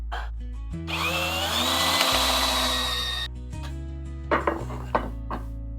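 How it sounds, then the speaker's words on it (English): A power drill whines at high speed into wood for a few seconds, then stops; a few knocks and handling clatters follow nearby. "Let me drill this out."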